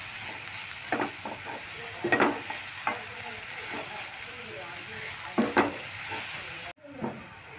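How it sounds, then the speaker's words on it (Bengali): Grated carrots fry in ghee with cardamom, a low steady sizzle punctuated by repeated scraping stirs of a spoon across the pan, close and moderately loud, with a brief quiet break near the end. "এবার আস্তে আস্তে এই গাজরগুলো এই ঘি আর এলাচের মধ্যে ভালো করে ভেজে নিতে হবে।"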